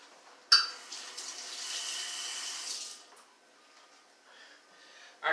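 Running tap water splashes into a sink as pepper seeds are rinsed out, a close, steady hiss of flow that starts abruptly, lasts a few seconds, then drops to a softer trickle before a final splash.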